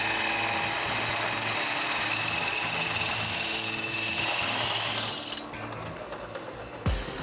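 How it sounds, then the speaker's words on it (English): A circular bit cuts through a mountain bike frame tube, giving a steady grinding, whirring machine drone with a rattling mechanical texture that winds down near the end. "it's drilled with a circular bit the same size as the tube to which it'll be connected"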